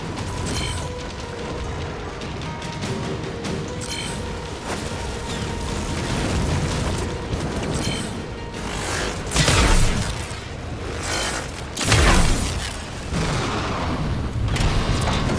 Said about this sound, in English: The multicoil is superheating the locking mechanism.